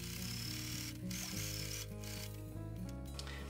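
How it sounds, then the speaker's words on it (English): A sewing machine stitches a quilt binding with a steady mechanical whir and tight rhythmic clatter, running continuously and close at a low, even level with brief slight dips. "Okay, so I'm gonna stitch this now."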